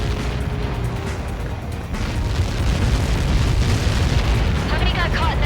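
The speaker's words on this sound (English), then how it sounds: "How many got caught in that explosion?" In the video game Ace Combat 7, a huge projectile explosion rumbles as a dense, sustained roar of deep blast noise and debris, loud and continuous throughout.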